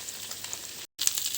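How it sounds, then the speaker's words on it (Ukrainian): Frozen dumplings sizzle in oil in a frying pan, a steady close crackle and hiss with a brief break partway through. "пельмені у мене на сковорідці вже смажаться"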